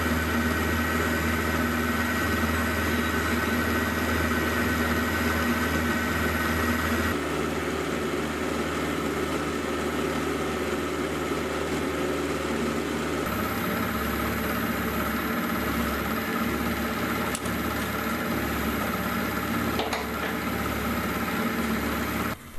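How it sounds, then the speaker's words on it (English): A machine runs a carbide end mill clearing out metal, producing a continuous dense mechanical drone with steady tonal whine that shifts in character a couple of times over about twenty seconds, with no talking. "I'm just going to come in with a carbide end mill and just clear out all the metal."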